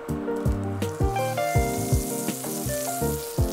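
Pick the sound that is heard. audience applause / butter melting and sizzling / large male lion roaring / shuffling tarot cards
butter melting and sizzling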